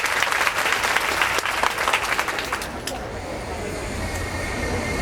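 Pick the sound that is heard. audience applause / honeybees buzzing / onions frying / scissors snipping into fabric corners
audience applause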